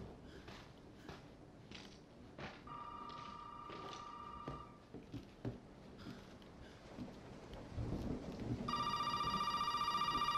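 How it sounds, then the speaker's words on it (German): A telephone rings inside a dark house in the survival horror game Resident Evil 7, a steady electronic ring that grows loud near the end over tense ambient rumble and scattered thumps. "Telefon?"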